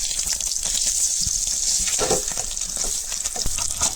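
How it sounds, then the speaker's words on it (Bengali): Paneer pieces fry in hot oil with turmeric powder in a home kitchen pan, a continuous bright sizzle with crackling spits and pops throughout, close and fairly loud. "অর্ধেক করে পনিরটা রাখলাম, যেন এখন তেলের মধ্যে দিলাম"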